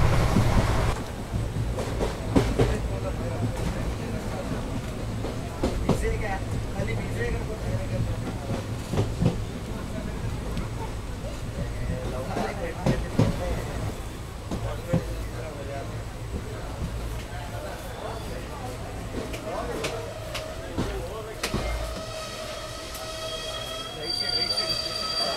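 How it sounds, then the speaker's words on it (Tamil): A fast express train from Yesvantpur to Vasco da Gama rumbles loudly along the tracks, wheels clattering and occasionally squealing, with steady wind and rail noise throughout. "செம ஸ்பீடு, ட்ராக் சவுண்ட்லாம் சும்மா பயங்கரமாக கேட்குதுங்க."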